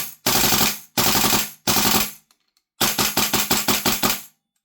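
A VFC Maxim MDX gas blowback airsoft rifle fires three short bursts, a pause, then a longer rapid full-auto string of sharp mechanical cracks, close and loud.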